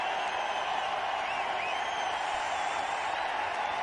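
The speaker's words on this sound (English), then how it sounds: "As he raises his bat there, the crowd goes wild." A cricket crowd at an India versus Australia match roaring for Tendulkar's half-century, a dense, steady wall of cheering and applause held at even loudness throughout.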